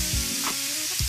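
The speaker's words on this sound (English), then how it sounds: "We're going to let our onion saute for 2 minutes." Chopped onion sautéing in olive oil in a hot skillet, a steady close sizzle and crackle with a couple of brief stirring scrapes.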